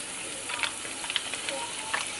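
Butter sizzles faintly in a cast iron pan ahead of a ribeye steak, a soft steady hiss broken by scattered small pops and crackles.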